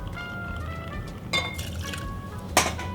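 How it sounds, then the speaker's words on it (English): Sazerac 6-year rye whiskey poured into a glass, a soft liquid trickle with a couple of brief glassy clinks, close and quiet with no talk. "So we're going to do 2 ounces of the Sazerac 6-year rye."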